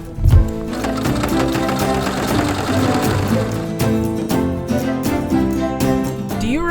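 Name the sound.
sewing machine top stitching a bag seam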